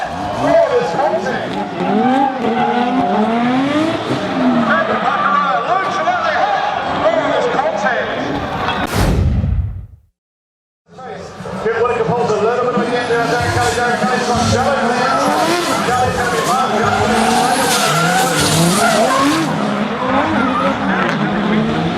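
Drift cars at a 2014 drifting championship roar and skid with loud, continuous engine noise and tire squeal, broken by a brief silent gap mid-way before the racket resumes; a commentator talks over it.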